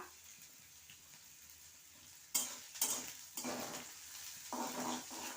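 Chopped onion and green chili frying in a pan, stirred with a utensil, with sharp scraping clatter bursts over a soft steady sizzle.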